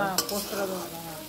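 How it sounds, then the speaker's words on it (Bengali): Potatoes with poppy seeds fry in a pan while being stirred, producing a brief close sizzle with a scrape of the spoon near the start. "পোস্ত দিয়ে আলু ভাজা।"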